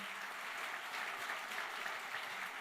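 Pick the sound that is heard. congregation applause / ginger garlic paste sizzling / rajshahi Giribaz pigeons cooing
congregation applause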